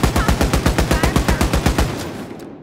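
Rapid automatic gunfire from a gun in Wolfenstein: Youngblood, a steady burst of about fifteen evenly spaced, punchy shots close up that stops shortly before the end.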